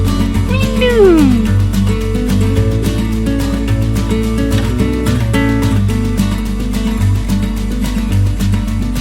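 A cat lets out one long, drawn-out meow near the start, loud and close, over steady background music.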